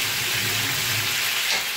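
Peppers and tomatoes fry in a pan with a steady, bright sizzle and crackle, close and continuous for a couple of seconds with no talking.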